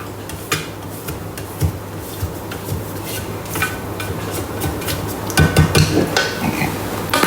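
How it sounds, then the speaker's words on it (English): A spatula scraping down the sides of a Thermomix mixing bowl in a home kitchen while making spaghetti carbonara: close, repeated rubbing scrapes and light knocks that grow busier and louder toward the end. "Scrape down the sides of the mixing bowl."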